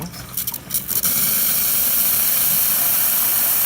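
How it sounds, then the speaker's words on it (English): A few brief bursts give way to a loud, continuous hiss of a La Spaziale Lucca espresso machine steam wand, close and steady to the end. "now we'll just test the steam just to show"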